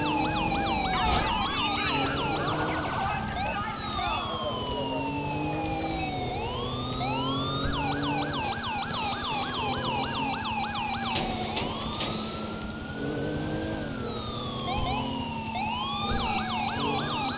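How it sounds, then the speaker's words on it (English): A Federal Signal Smart Siren on a police car during a GTA5 LSPDFR pursuit wails loudly and without a break, its rising and falling sweeps repeating over a low engine rumble. "we're using the Federal Signal Smart Siren"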